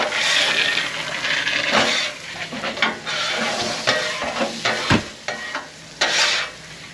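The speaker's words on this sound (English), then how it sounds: "That's a little sizzle, sizzle, crack, crack." Breakfast sizzling in a hot pan at a campground, with scattered crackles and pops, plus occasional stirring scrapes, close by and steady.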